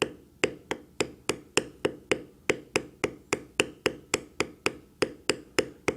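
Leather being lightly beveled with a metal stamping tool and mallet, a rapid steady series of about twenty sharp, crisp taps at an even rhythm, close and alone with no talking.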